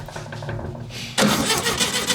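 An old Volkswagen Beetle engine with fresh ignition points cranks with a rhythmic, low churning of the starter, then catches partway through and rises into a louder, rougher running sound, close by.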